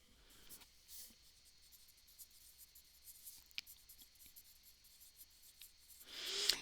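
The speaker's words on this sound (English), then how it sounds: "Let's just write that down." Faint scratching of pen or pencil on paper while figures are written down by hand, soft and intermittent in a quiet room, with a brief brushing sound at the end.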